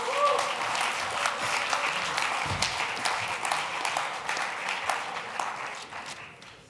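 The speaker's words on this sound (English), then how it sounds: "Another big round of applause." An audience at the E.A.T. 2023 event gives a sustained round of applause for Mohomodou Houssouba, dense clapping from a crowd filling the whole stretch at steady strength, with some faint voices mixed in.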